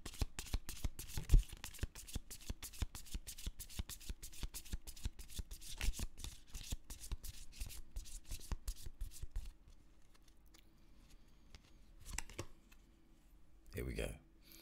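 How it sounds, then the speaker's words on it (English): Angel of Light Oracle cards are shuffled in a quick, steady riffle of dense card flicks for about nine seconds, then quieter handling with a couple of brief soft rustles; a voice speaks in the background. "I'm going to pull you an Angel of Light Oracle card."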